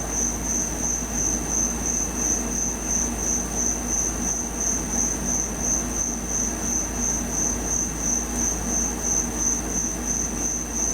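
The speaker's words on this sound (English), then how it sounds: "I know there's a bunch of crickets out here today." Crickets chirp outdoors in a dense, steady, high trill that runs unbroken throughout, with a faint low rumble of background noise underneath and no talk.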